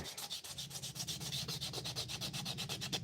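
Wood being sanded by hand with 80-grit sandpaper: a close, steady run of quick rasping back-and-forth strokes with no pauses, and no voices.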